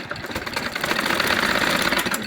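A sewing machine stitches hijab fabric in one close, loud, continuous run of rapid mechanical chatter that gathers speed and stays steady, with no talk.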